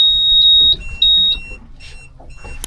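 A high electronic warning beep from a Suzuki DF60 outboard motor on a boat sounds in steady repeated tones, then shifts to a lower pitch and keeps chiming intermittently over faint background rumble.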